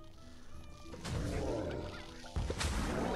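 Chickens in the Plants vs. Zombies 2 video game squawk and honk in a couple of loud, flustered bursts over a steady game soundtrack.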